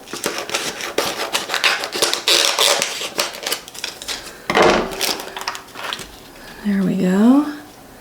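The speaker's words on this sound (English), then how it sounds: "I'm going to trim a little bit off the bottom now." A canvas piece for a Cricut craft is trimmed with repeated close, crisp snipping and cutting clicks, followed by rustling and brief handling noises, with a voice speaking near the end.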